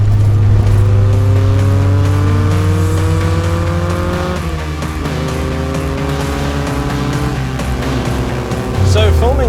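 A 1.8-litre VW Citi Golf Mk1 engine revs hard and climbs steadily in pitch as it accelerates through second gear toward a redline just past 6,000 rpm, loud and close, with a brief shift near the end.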